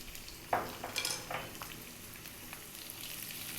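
Onion, celery and chopped garlic fry in olive oil with a soft, continuous sizzle. A few light stirring clicks and scrapes break into it at scattered moments.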